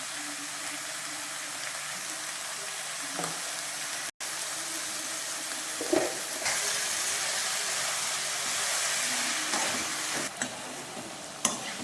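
Milk and water boiling in a pot make a continuous hiss and bubbling, broken by a brief dropout and a few soft knocks and clatters. No voices are heard.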